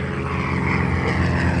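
A Marchetti propeller airplane flies past at an air show, its engine giving a steady, loud droning buzz that stays constant throughout with no voices.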